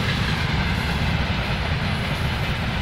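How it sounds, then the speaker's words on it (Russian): Deep, steady roar of a passing train nearby, a dense low rumble with no voices over it. "Поезд. Чух-чух-чух-чух-чух-чух."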